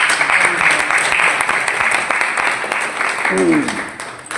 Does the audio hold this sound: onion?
no